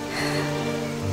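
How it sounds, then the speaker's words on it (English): Steady rain hiss in the video game Octopath Traveler II, with a low droning hum underneath, continuous and even, no voices. "The rain's returning to normal."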